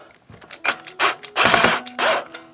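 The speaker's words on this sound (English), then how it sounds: "I'm going to loosen the claw" Screws being loosened on the tremolo spring claw of a Jay Turser Wolfgang electric guitar, heard as several short mechanical ratcheting and scraping bursts, close and fairly loud, with brief pauses between turns.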